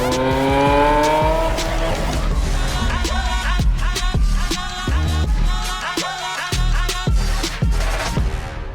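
A Lamborghini drives in a post-apocalyptic open-world game trailer, its loud engine rising in pitch through the gears with squealing tires and sharp thumps over a steady, dense mix.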